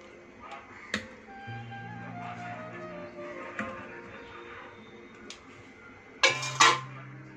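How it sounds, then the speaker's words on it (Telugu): Washed fish are dropped into a metal cooking pot, giving a few sharp clinks and knocks of metal and utensils over quiet kitchen ringing, with a louder clatter near the end. "ఇప్పుడు మనం వండే గిన్నె తీసుకొని ఇందులో ముందుగా కడిగి ఉంచుకున్న ఈ చేపలను వేస్తున్నాను."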